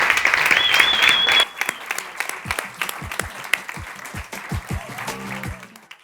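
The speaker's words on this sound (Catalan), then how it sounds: "Plou l'aplaudiment!" At a community arts centre broadcast, an audience applauds two birthday guests, dense clapping at first that quickly thins into scattered individual claps, with a sharp whistle early on and low thumps and a voice near the end.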